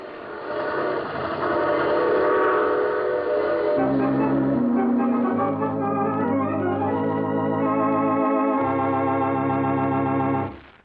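A train in a radio drama rolls along with a clattering rumble, then its whistle sounds in a series of long, layered tones over the steady running noise, with no voices.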